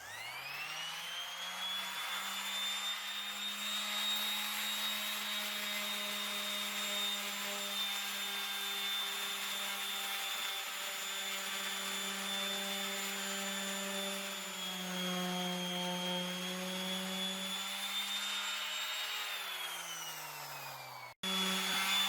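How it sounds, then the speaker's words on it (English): A power sander runs steadily for a long stretch sanding the wooden bottom of a cedar strip boat, with a whining, buzzing hum, then cuts off abruptly near the end. "I'm going to take my sander and see what I'm going to do with that"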